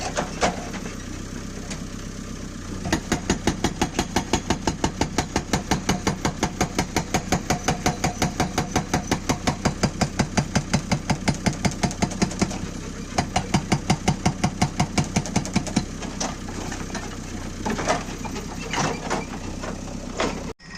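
A JCB 3DX 74 hp backhoe runs with an Atlas rock breaker hammering hard stone, giving rapid, regular loud pounding over a constant engine drone that pauses briefly and resumes.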